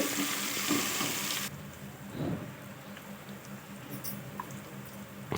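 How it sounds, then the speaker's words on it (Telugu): Ginger paste frying in a pan for egg biryani makes a steady, soft sizzle with a louder hiss in the first moment, settling into a low, continuous crackle close by with no talking. "ఇప్పుడు పచ్చి వాసన పోయేంత వరకు మనము వేగనివ్వాలి"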